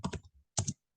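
Typing on a computer keyboard while entering an SQL create-database command: a quick cluster of several close, crisp keystrokes, a short pause, then two more taps.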